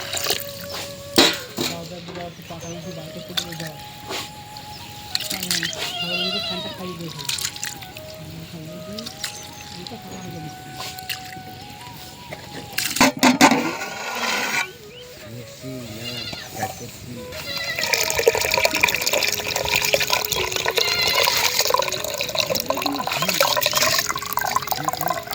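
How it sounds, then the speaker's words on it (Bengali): Rice grains are washed in water outdoors under a tree in a village, with a steady sloshing, splashing wash that grows louder toward the end. Goats bleat repeatedly nearby and voices talk in the background. "এবার ভাতের চালটা ভালো করে পরিষ্কার করে ধুয়ে নেব।"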